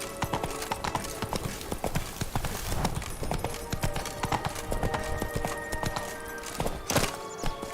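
Roach the horse in The Witcher 3 clip-clops along with steady, close hoofbeats, a brief whinny mixed in among the rhythmic footfalls.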